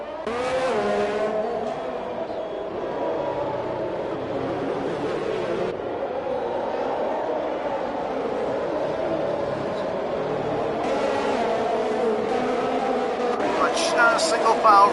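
Race cars from a racing video game at Mexico, engines droning steadily in single file through a series of turns. The roar is continuous and fairly loud, with occasional revving and a brief tire squeal.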